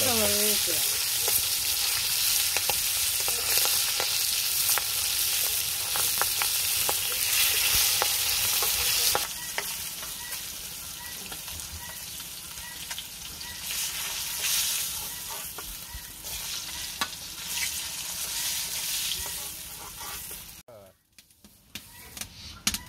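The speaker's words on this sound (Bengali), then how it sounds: "মাছ ভাজা হয়ে গেছে" Fish fries in a pan with a loud, continuous, crackling sizzle held close for a long stretch, easing slightly partway through, with a voice speaking now and then over the cooking.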